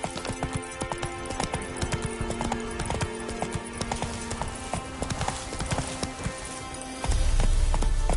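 Horse galloping in The Witcher 3 on PS5, a fast, steady clip-clop of hooves over the ground, close and continuous, with a deeper rumble joining at the end.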